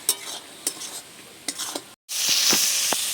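Water lily stems and shrimp being stirred in a frying pan, with spoon scrapes and clinks over a steady oily sizzle that swells louder after a brief pause.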